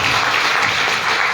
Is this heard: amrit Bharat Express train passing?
no